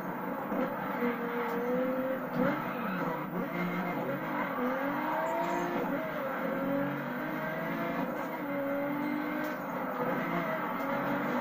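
Racing cars in The Crew video game, a steady engine drone with shifting revving pitch and faint tire noise, loud and continuous throughout.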